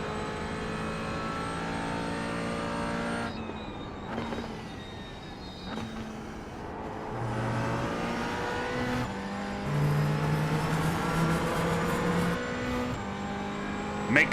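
A McLaren GT4 race car laps Watkins Glen in iRacing, its engine droning and rising and falling through gear changes with steady revving, upshifts and downshifts over about fourteen seconds, loud and continuous.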